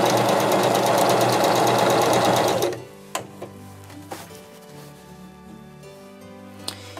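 A sewing machine stitching fabric, a loud, fast, even mechanical whir for about three seconds that then stops abruptly, leaving quiet scattered clicks and small handling sounds.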